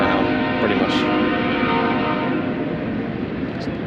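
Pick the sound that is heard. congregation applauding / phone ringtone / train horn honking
train horn honking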